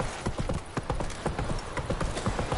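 Hooves of Roach, Geralt's horse in The Witcher, clip-clopping in a steady, close rhythm with a faint whinny.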